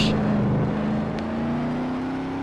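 A race car engine drones steadily at a distance on track during the 2015 24 Hours of Sonoma endurance race, its pitch slowly rising, with no other sounds over it.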